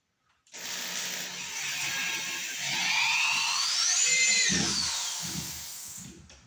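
A power drill driving screws to fasten drywall sheets, a loud continuous whine that rises in pitch as it spins up, holding steady for several seconds before cutting off.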